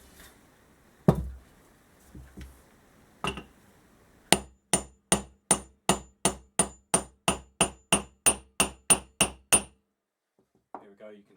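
Steady series of about fifteen sharp, evenly spaced hammer blows driving a rear wheel bearing into the hub of a 1977 Kawasaki KZ650 B1 motorcycle, preceded by a few scattered knocks and handling noises.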